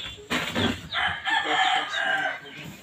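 A rooster crows in a long, loud call close by, with chickens clucking around it in a yard, and no talk over them.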